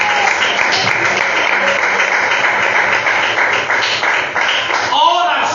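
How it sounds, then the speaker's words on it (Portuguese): A church congregation applauding during a teaching service, a sustained wash of many hands clapping that fills the room, with voices talking faintly beneath it and a brief tonal sweep near the end. "Quem pode aplaudir aí?"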